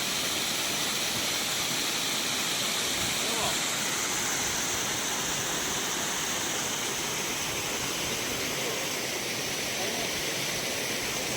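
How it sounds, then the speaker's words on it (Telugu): Water flowing over the Pocharam reservoir dam after a rise in flow, heard as a loud, steady roaring rush that holds unbroken and even for the whole stretch. "వాటర్ మాత్రం ఫ్లో పెరిగింది"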